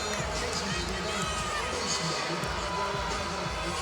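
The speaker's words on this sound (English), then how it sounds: "So the crowd begins to stir and buzz a little bit" A fight crowd at an arena in Omaha murmuring and buzzing steadily, a continuous wash of many voices with scattered louder calls and thumps, with an announcer talking over it.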